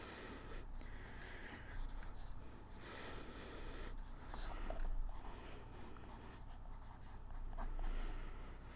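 Pencil scratching on paper in continuous, close, fairly faint strokes, with brief pauses between bursts and a steady low hum underneath.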